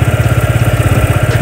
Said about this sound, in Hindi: let's just check out the exhaust note of this motorcycle